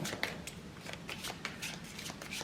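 Tarot cards being shuffled by hand, a run of close crisp riffling flicks and slaps repeating at an uneven pace, fairly quiet, with no voice over them.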